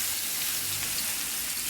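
Onions dropped into hot oil left over from frying rohu fish, giving a dense, steady sizzle and crackle that holds evenly at close range throughout, with no talking.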